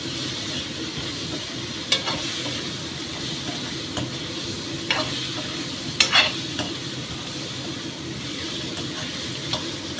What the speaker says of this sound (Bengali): শালগম, ওলকপি যা দিই আমরা, দিয়ে এবার এর সাথে কষবো।